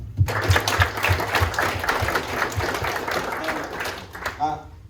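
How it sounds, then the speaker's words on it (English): A group of new rookie hires at a manager's introductory speech applauds in a dense, sustained burst of clapping that fades out after a few seconds, with voices audible underneath. "I want to clap it up for you guys for doing that"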